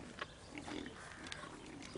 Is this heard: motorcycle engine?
no